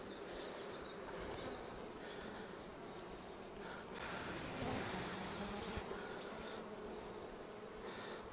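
Bees hum and buzz around an open hive during an inspection, a faint continuous drone with a few closer buzzes swelling briefly, and no talking.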